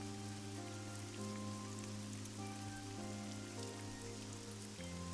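Rain falling in the video game AI: The Somnium Files, a faint, even patter that runs the whole time beneath sustained game music.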